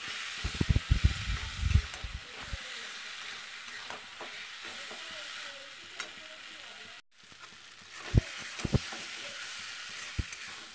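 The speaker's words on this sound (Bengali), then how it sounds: "আলুগুলো দিয়ে এবার একটু কষিয়ে নেব" Fried potato pieces stirred and sautéed in a pan for egg curry, sharp scraping stirs and crackling sizzle at first, then a softer steady fry with occasional spoon knocks against the pan.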